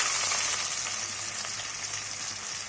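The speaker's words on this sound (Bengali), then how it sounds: "তাই আমি এই তেলের মধ্যে পেঁয়াজ কুচি দিয়ে দিচ্ছি" Chopped onions fry in hot oil, giving a steady, close, bright sizzle that holds evenly throughout with no voices.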